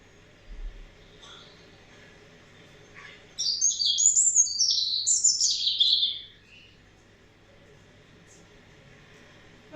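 A bird sings a bright, warbling phrase of about three seconds, loud and close, set against a quiet, steady background with no other clear sounds.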